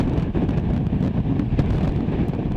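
Strong gusts from Hurricane Isaias at landfall, whipping sand around a building, roar as a loud, continuous broadband rush of wind buffeting the microphone, with no talk.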